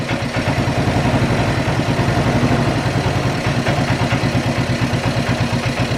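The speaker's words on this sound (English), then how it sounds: "Look at that, like free quad, it's just sitting there idling." A roadside free ATV quad engine idles loud and close with a rapid, uneven chugging pulse, sputtering and clattering irregularly throughout, with no voices.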